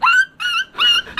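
A dog barks on command, three sharp high yapping barks in quick succession, near and loud, with no one talking over them.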